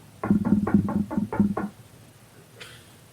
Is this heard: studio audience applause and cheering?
no